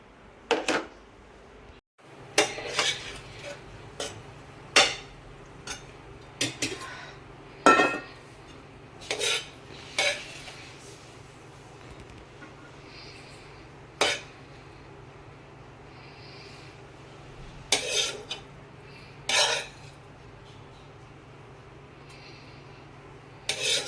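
Dishes and cutlery clink and scrape in a home kitchen as macaroni is served, sharp isolated clatters spaced irregularly over a steady low hum, close and fairly quiet, with no talking.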